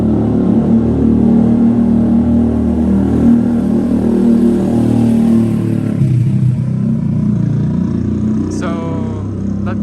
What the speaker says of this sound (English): So that was a motorcycle.